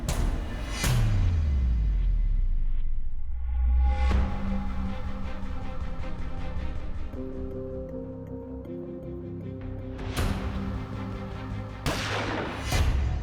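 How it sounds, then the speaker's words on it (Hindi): A few sharp gunshots from a handgun fired by a girl in self-defence, heard as sudden loud cracks spaced several seconds apart, one near the start and two close together near the end, with ringing ticks between. "लड़की ने गोली सेल्फ डिफेंस में चलाई है"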